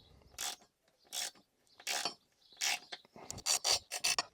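Ratchet tightening the bolts on a fixed table leg in a camper van, quiet rasping clicks in short bursts, slow and spaced at first, then faster and more rapid toward the end, with no talking.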